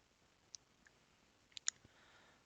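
Several sharp, faint computer mouse clicks come at irregular moments, a single one first and then a quick cluster of two or three, heard against a quiet background while someone works in Git software.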